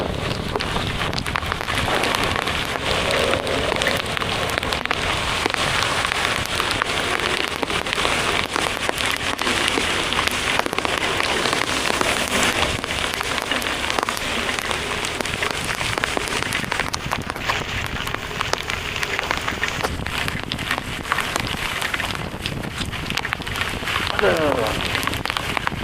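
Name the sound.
heavy rain while riding a motorcycle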